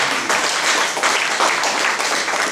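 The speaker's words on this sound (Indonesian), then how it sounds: "Berikan tepuk tangan." Steady applause from a church congregation, dense and continuous, fairly loud throughout with no voices standing out.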